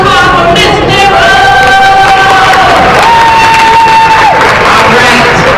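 A school Black History Month assembly audience claps and cheers, with whoops and children's shouts in a loud, steady wash of crowd noise throughout.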